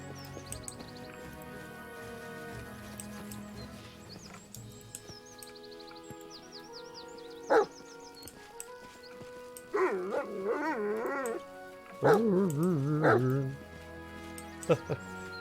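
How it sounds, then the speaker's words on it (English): Dog barking and whimpering in the fantasy RPG Pathfinder: Kingmaker, a few separate yips followed by two longer bursts of wavering barks and whines, set against game music and ambience. "Hey, it's a dog. Hey, dog."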